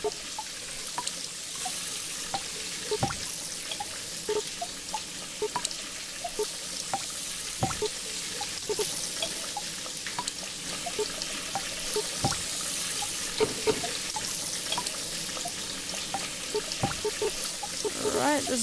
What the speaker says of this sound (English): Alright, so the water starts going up there